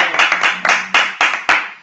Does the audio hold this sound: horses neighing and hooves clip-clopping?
no